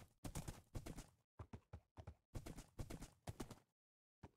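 Horse hooves clip-clop in the Minecraft video game, a quick run of sharp, close hoofbeats in uneven bursts with short gaps, then silence at the end, with no talking.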